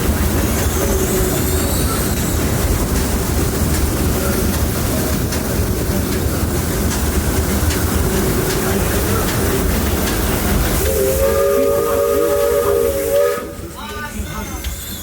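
A steam locomotive runs with a loud, constant hiss and chugging roar. Its steam whistle sounds toward the end before the noise drops away.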